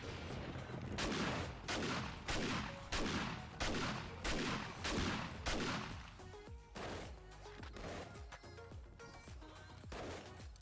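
Rapid bursts of gunfire in the survival game 7 Days to Die, a steady series of loud, sharp shots at a quick even rhythm that slows into scattered rounds toward the end.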